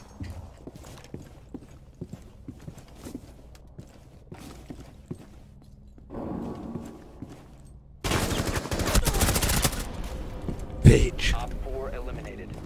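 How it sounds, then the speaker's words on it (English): A thrown flashbang and gunfire in Rainbow Six Siege: quiet scattered clicks and footsteps build to a sudden loud burst of harsh noise with rapid shots layered over it, sustained for several seconds with a sharp crack near the end. "Flashbang."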